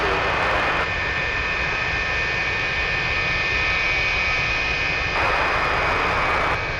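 MD-11 jet engines whine and roar during pushback at Anchorage airport, a steady loud drone with a sustained high tone, rising briefly at the start and again near the end.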